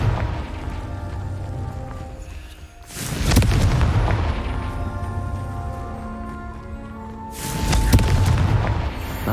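Two booming Confringo spell explosions in Hogwarts Legacy burst out several seconds apart, each swelling into a loud rolling roar over a constant droning game background.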